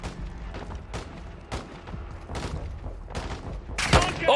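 Gunfire in a shooter video game: a rapid series of sharp shots at irregular intervals, some louder and closer, ending in a loud burst.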